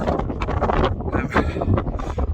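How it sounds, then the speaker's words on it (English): Strong wind buffets the microphone on a hillside wild camp at Grindslow Knoll in the Peak District, a loud, close, continuous roar of gusts that rise and fall throughout. "Might be waiting for wind to die down."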